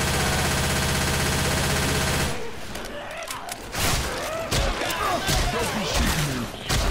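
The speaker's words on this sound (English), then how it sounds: "Don't be shooting me." Video game gunfire during a charity gaming stream: a dense, steady roar for the first two seconds, then scattered sharp shots and thuds over a busy background.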